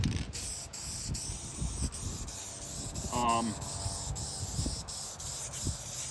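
Light coats of spray paint go onto pinball back glass in short repeated hissing bursts at a close, moderate level, with a rhythmic pattern of passes and some faint background noise.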